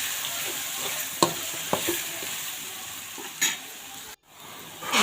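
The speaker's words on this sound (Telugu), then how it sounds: "తర్వాత ముందుగా ప్రిపేర్ చేసిన మసాలాతో వేసుకోవాలి. ఇది బాగా వేయించాలి." Masala frying in a pan for lemon rice, a loud continuous sizzle with a few scraping stirs, breaking off briefly near the end before the hiss returns.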